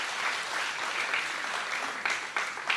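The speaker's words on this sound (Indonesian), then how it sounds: "tepuk tangan yang keras buat Tuhan" A congregation claps loudly and steadily at a church service, a dense continuous applause that swells slightly near the end.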